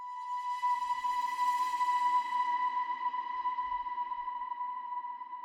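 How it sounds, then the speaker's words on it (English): A soft analog swell synth from Spitfire LABS holds one steady sustained tone that fades in gently, stays smooth and airy at low level, and slowly thins out, with a few faint low thumps underneath. "So third thing in this whole intro is these analog swells."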